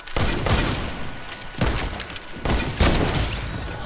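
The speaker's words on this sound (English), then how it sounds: "That's a heavy, heavy sniper, boy." Heavy sniper rifle shots in a Fortnite match, several loud booming cracks in sequence with rumbling tails, close and dominant with little else around them.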